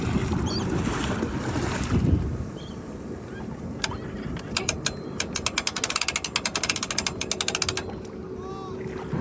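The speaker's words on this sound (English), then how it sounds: "Alright, then I crank and Lewis lifts." A boat trailer winch being cranked to pull a jet ski onto the bunks at a causeway launch, giving a fast run of loud ratcheting clicks over wind and water noise.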